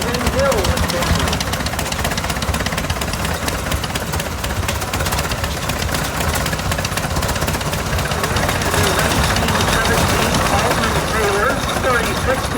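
A steady, loud mechanical engine drones and rattles continuously, with faint voices beneath, like an antique tractor motor running at idle during a tractor parade.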